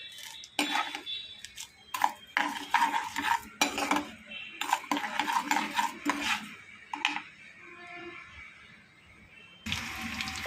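Mustard seeds, cumin, urad dal and curry leaves for coriander chutney fry in a pan, giving a steady crackling sizzle mixed with scraping and stirring clinks of a spoon against the pan, with short pauses.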